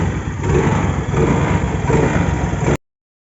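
A Honda Dio BS4 scooter runs at a steady idle after an electric self-start, a close, even mid-pitched engine putter that stops abruptly.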